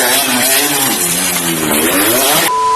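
A Yamaha RX-King motorcycle engine revs loud and close, its pitch climbing and falling over a sustained raspy drone before cutting off abruptly into a steady tone.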